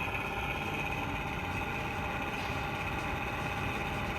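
A Rapido sound board fitted in a Walthers model refrigerator car plays a reefer engine running, a steady droning idle with a constant buzzing hum, even and unbroken throughout with no talk.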